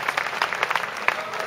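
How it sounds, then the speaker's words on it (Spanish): Brief audience applause for a mariachi at a live orchestra show in Valtierra, a short burst of scattered clapping with crowd noise, fairly close and lively. "Ese aplauso para el mariachi"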